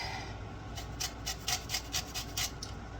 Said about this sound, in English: you can hear this amazing screeching, scratching noise of the lemon zest